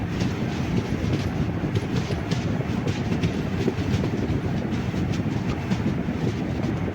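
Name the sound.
passenger train entering a station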